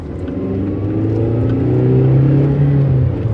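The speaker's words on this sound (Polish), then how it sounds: "Gdy wyżej wkręcamy na obroty ten silnik, to niestety go bardzo wyraźnie we wnętrzu słychać." A 2005 Toyota RAV4 engine revs up steadily, a loud rising drone heard from inside the vehicle, with no talking.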